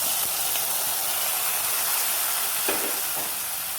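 Hot coconut tempering with curry leaves hisses and sizzles steadily as it is poured into a pumpkin dal curry, a continuous bright frying crackle with a few louder spits late on.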